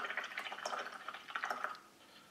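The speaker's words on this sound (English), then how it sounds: "Okay, so I will clean this brush." A paint brush rinsed in water, soft swishing and dripping splashes in quick irregular bursts, close and faint, then tapering off.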